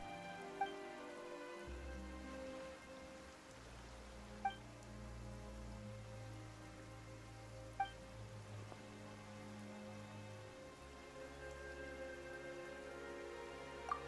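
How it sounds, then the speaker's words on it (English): Soft, steady rainfall in the video game Genshin Impact patters continuously over a low ambient drone, with a few faint chime-like accents; no talking. "Why is it raining all of a sudden?"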